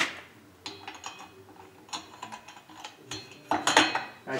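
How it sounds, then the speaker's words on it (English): A hand ratchet clicks in short bursts while bolting a cylinder onto a Farmertec 372 chainsaw, close and sharp, with light metallic tool handling between the strokes. "but bolt this cylinder on here."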